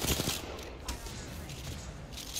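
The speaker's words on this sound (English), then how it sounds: "charge rifle" A charge rifle fires in a first-person shooter match, loud sharp energy blasts with sustained crackling gunfire and battle noise filling the mix, close and dense throughout.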